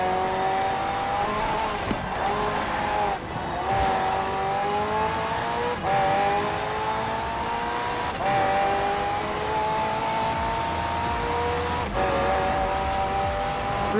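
A McLaren F1 twin-turbo V8 hybrid car driving in Forza Horizon 4, its engine holding a steady, rising tone with gear changes, loud and close throughout.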